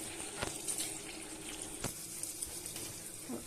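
Faint, steady water runs and splashes in a kitchen as cold water is poured over boiled cabbage leaves, with a few soft clinks and light knocks in the background.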